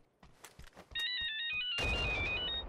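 A phone ringtone chirps through a PUBG gaming session, its bright warbling tones looping steadily for about two seconds over a dense wash of game noise, after a few brief sharp knocks.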